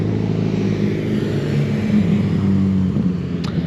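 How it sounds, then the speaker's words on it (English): Steady engine rumble from cars pulling into a Honda car show at a garage grand opening, a continuous low drone with mild revving swells throughout and no talk. "And the cars just keep on coming and coming"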